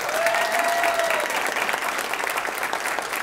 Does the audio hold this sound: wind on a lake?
no